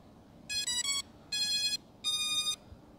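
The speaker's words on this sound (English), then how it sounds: "we are going to turn on your drone" Holy Stone HS720G GPS drone giving its power-on chime: three short bright tonal beep bursts in an even rhythm, close and clear over a faint background hiss, with no talking.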